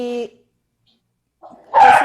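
Household dogs, five kept at home, give a brief bark or yelp at the start, then a second burst of louder, close barking after a pause of near silence.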